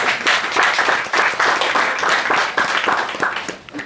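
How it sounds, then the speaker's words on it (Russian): An audience at a press conference for the Park Live festival applauds the band, producing dense, continuous clapping at close range that stays loud throughout and thins slightly at the end. "Аплодисменты."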